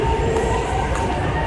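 A metro train runs in a steady low rumble with faint wheel and rail tones riding on top, a close, continuous mechanical drone lasting throughout with no voices.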